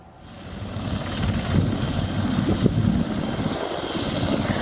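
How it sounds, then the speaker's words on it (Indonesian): Helicopter evacuating construction workers from Paro, Duga Regency, Papua, to Timika: a loud, continuous rotor and engine roar with a steady rumbling throb that rises slightly at the start, then holds throughout with no voices. "Seluruh pekerja dievakuasi ke Timika dengan helikopter."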